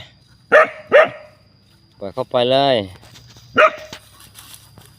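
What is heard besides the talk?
dog barking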